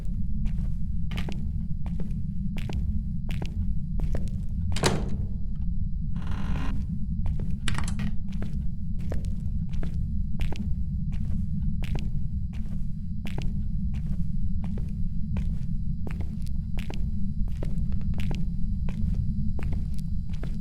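Scattered knocks, thuds and creaks of objects being thrown around by a ghost in the Phasmophobia horror game, faint and irregular over a steady low ambient drone.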